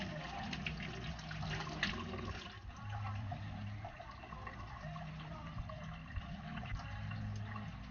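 Water running steadily from a tap as a face is wetted at a sink, a continuous close splashing rush lasting throughout.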